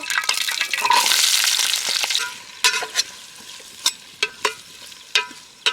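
Onions hit hot oil in a pot outdoors while cooking chicken biryani, giving a loud sizzling burst that settles into softer frying, punctuated by sharp stirring clanks against the pot.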